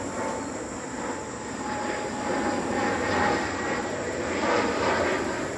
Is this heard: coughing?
no